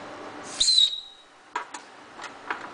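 A small survival whistle from a knife kit gives one sharp, shrill blast, followed by a few faint clicks and handling noises close by.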